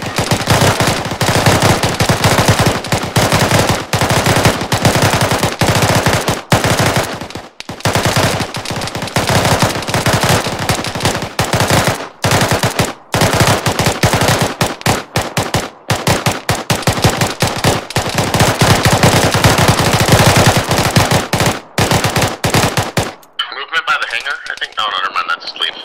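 Sustained automatic gunfire from the Arma 3 video game, dense and loud bursts filling nearly the whole stretch with brief gaps, over continuous radio-style voices calling out, before cutting to quieter ambience at the end.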